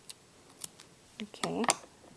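Scissors snipping off a loose crochet yarn end on a baby bootie, a few quiet clicks and one short sharp cut, close and alone.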